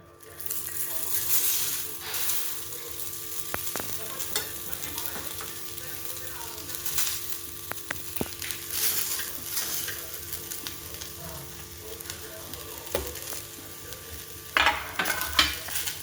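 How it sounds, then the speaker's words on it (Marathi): Onion fries in a pan with a little oil, giving a steady, close sizzle throughout, dotted with occasional light ticks and scrapes of a spoon. "आता आपण कांदा टाकतोय भाजायला"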